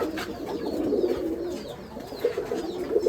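Pigeons at a pigeon farm in Bangladesh coo in repeated soft, throaty phrases, several birds overlapping at close range with faint chirps in the background.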